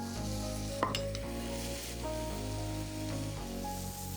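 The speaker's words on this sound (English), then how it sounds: "while that is sauteing, make sure you keep stirring it and folding it over so it doesn't burn" Pork bulgogi stir-frying in a pan, a continuous close sizzle with scraping stirs and a few sharp clinks of a utensil, no voices.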